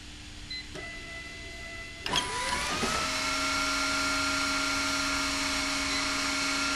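A Foxjet LS4600 label applicator's vacuum fan spins up with a sudden surge, then settles into a steady, loud whine over an underlying mechanical hum, running continuously on its own without speech.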